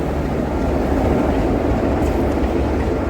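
Rumbling rail noise at a Hymek diesel preservation event, a steady, dense roar from running diesel locomotives and rolling stock, loud and continuous with no voices.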